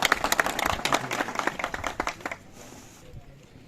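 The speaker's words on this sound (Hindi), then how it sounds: "हम तहे दिल से तालियों के साथ यहाँ पर मेहमान का स्वागत करते हैं।" An audience at a Block Diwas celebration at a high school in Dali Udhyanpur claps to welcome guests, a dense patter of hand claps for about two seconds that then thins out and fades under faint background noise.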